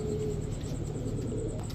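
Pigeons at a pigeon market, where racing and fancy breeds are sold, give a low, steady, continuous cooing that fills the space close by, with faint chirps above it and no voices.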